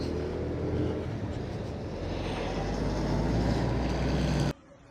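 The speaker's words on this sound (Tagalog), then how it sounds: "Sarap gamitin talaga tong NMAX Turbo. Panalo. Lakas ng hatak." A Yamaha NMAX Turbo scooter engine droning steadily while riding, with broadband road and wind rush, loud and close, cutting off abruptly near the end.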